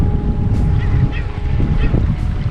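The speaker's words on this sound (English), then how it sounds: "A couple other birds squawking on them." Seabirds squawk at North Jetty on Humboldt Bay near Eureka, California, with a few short, harsh calls rising over a loud, constant roar of wind and surf.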